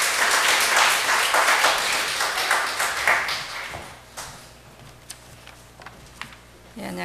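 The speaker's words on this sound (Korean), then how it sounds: "우리 박수로 환영하겠습니다." Applause from a church congregation welcoming a speaker forward, a dense burst of clapping that gradually thins out and fades to scattered claps.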